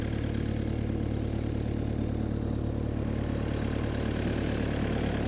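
A Kubota tractor carrying a Prinoth mulcher idles outdoors on a farm, a steady low engine drone holding constant at moderate, fairly distant level with no voices.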